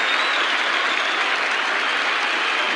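Dense, steady applause from a cricket crowd greeting Doug Walters' boundary for Australia in a 1980-81 World Series Cup match, a continuous roar of clapping with no voices rising above it.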